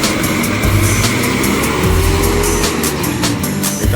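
An intercity bus with full air conditioning, coming from Palembang and bound for Jambi, runs with a loud, steady engine rumble and drone at close range, with no talk.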